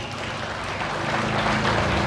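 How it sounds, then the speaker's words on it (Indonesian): A church congregation claps in steady, dense applause after a Christmas narration, a continuous wash of hands that holds at a moderate level and swells slightly toward the end. "mari tepuk tangan untuk Natal ini"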